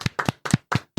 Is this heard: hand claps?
yes